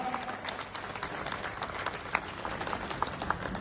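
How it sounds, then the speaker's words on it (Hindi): Applause rises from an audience at a district news event welcoming a police superintendent, a dense, fairly distant patter of many hands with a few sharper claps standing out, no voices over it. "तालियों से स्वागत माननीय एसपी साहब का।"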